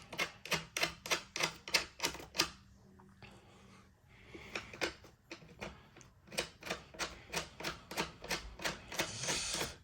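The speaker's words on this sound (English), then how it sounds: "We're gonna take our screws, S5s, we're gonna go ahead and start putting the screws in here." Screws being driven into a WeeWay queen bed frame, a rapid run of sharp ratcheting clicks, a short pause with soft rustling, then another steady burst of clicks, close and clear.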